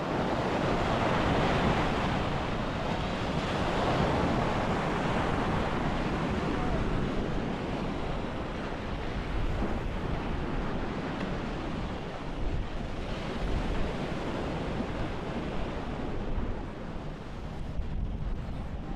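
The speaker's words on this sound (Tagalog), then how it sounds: "Ang alon." Ocean surf rolling onto a beach in Palawan, a steady broadband wash of breaking waves with constant wind rumble across the whole stretch, loud and close, no voices.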